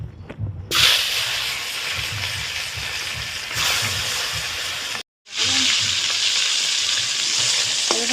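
Bhola fish frying in hot salted oil, a loud, close sizzle that bursts up as pieces go in, continuing as a steady hiss with a brief pause midway before resuming.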